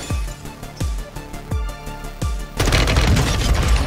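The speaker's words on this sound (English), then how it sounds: "How did he not see me shoot the window?" M4 rifle fire in the Warzone video game: five evenly spaced loud shots, each followed by a short ring, then a dense, sustained burst of rapid fire and crashing noise aimed at a window.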